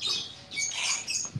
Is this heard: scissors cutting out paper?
no